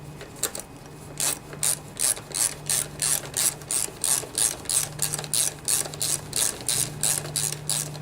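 Steady ratchet clicking as bolts are tightened on a Kawasaki FC150V small engine from a DR trimmer, a rhythmic series of close, crisp bursts of pawl clicks with short pauses between strokes, no voices.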